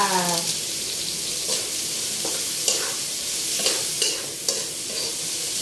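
Pansit guisado noodles sizzle and fry in a pan while being stirred, giving a continuous loud hiss with scraping and clattering strokes at irregular intervals, close up and with no talking.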